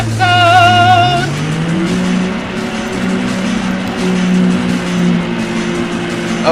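Race car engines roar in Need For Speed: High Stakes, a loud sustained drone with a rising whine early on and tires squealing through the mix.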